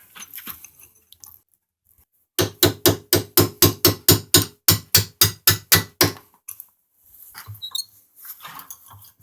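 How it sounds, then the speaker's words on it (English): Rapid, steady hammer blows on a punch, about fifteen metallic strikes in quick succession, close and loud, driving a brake line fitting out of a 2002 Chevy pickup, followed by quieter handling sounds. "take a punch and a hammer and pop it right out"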